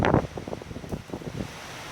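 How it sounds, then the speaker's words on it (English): Very strong storm winds of 60 to 70 mph during a heavy Dallas, Texas thunderstorm, a brief roaring gusty rush with buffeting pulses on the microphone, no voices. "Very strong winds now."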